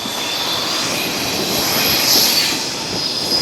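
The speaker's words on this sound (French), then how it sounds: "On voit ici les trains qui arrivent." Trains roll into Gare de l'Est in Paris below a bridge over the tracks, a broad steady rumble with a thin high metallic squeal running through it, heard from some distance.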